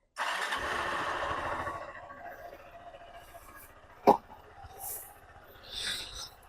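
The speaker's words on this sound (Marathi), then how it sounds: "आपण आपल्या युनिकॉर्नला कोल्ड स्टार्ट करूयात." A Honda Unicorn 160 motorcycle starting from cold: the engine catches after a burst of cranking noise and settles into a low, steady idle close by, with one sharp knock partway through.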